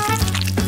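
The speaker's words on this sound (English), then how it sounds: "I'll pour it into a frying pan and fry it." An egg and milk mixture sizzles and fries in a hot frying pan, a steady close crackle with no talking.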